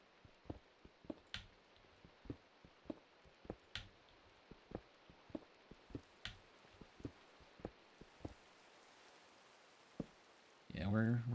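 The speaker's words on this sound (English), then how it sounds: "I can definitely hear the rain pretty loud." Rain heard from inside a cave in Minecraft: soft, muffled patter with irregular sharp ticks and drops spread across the stretch, fairly faint and distant, ending with a brief burst of louder noise.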